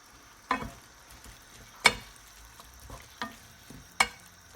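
Chard leaves sautéing in a sauté pan over raised heat give a quiet, steady sizzle. A few sharp clanks and stirring knocks rise above it at irregular intervals.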